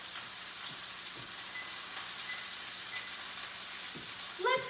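Beef chuck roast sears in a hot pan, a steady low sizzle and crackle of fat running throughout, with a brief sharper spatter near the end.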